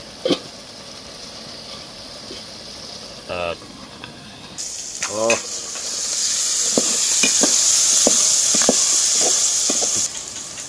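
Baim eel fish being sautéed in a covered pan, a steady sizzle and hiss that grows louder and brighter midway, with scattered clinks and stirring scrapes and brief talk at the start.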